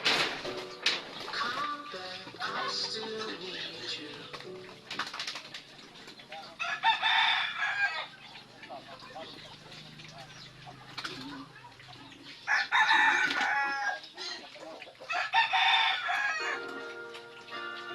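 Six-month-old hens on a farm cluck and squawk in a busy flock, with bursts of louder calls and some wing flapping rising and falling over the steady background.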